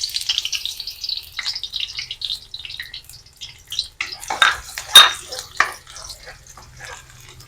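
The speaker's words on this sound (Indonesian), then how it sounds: "Tumis bawang merah, bawang putihnya sampai harum dulu teman-teman" Shallots and garlic sauté in oil for a fish curry, giving a light, uneven hiss and sizzle with a few louder spattering bursts partway through.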